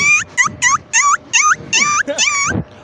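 A man imitates a puppy with his voice, giving seven short, high whimpering yelps in a quick, even series, each rising then sliding down, fairly loud and close with no other sounds.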